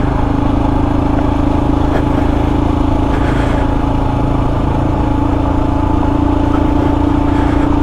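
A Royal Enfield Himalayan 411 motorcycle rides along, its single-cylinder engine giving a steady, loud, close drone with a constant low rumble and no clear revving, and no voices.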